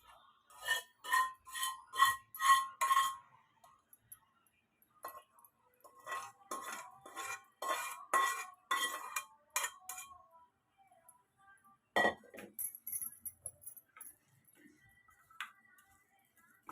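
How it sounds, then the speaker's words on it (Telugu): A spoon mixes tempering seeds into raw tamarind pickle, with quick bursts of rhythmic clinking against the container separated by pauses. "తిరగమూత గింజలు అవన్నీ ఇప్పుడు దీంట్లో కలిపేద్దాం."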